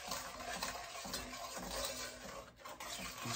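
A spoon scrapes steadily through a pecan candy sugar mixture in a pot, a close, rhythmic gritty swishing with no talk.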